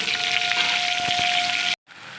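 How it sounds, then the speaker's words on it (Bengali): Whole pointed gourds sizzle and crackle steadily in hot oil, a continuous frying hiss with a faint hum underneath, cut off abruptly near the end. "এইভাবে এই যে ভাজছি এগুলো একদম লাল লাল করে ভেজে নেবো"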